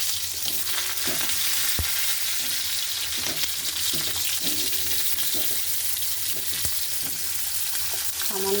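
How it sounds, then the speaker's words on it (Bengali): Boiled jackfruit seeds sizzle and fry in hot oil with a little garlic, a steady loud crackle throughout with occasional stirring clinks and scrapes of a utensil in the pan. "এবার আমি এই তেলের মধ্যে যে সিদ্ধ করা কাঁঠাল দানাগুলো ছিল সেগুলো আমি একটু ভেজে"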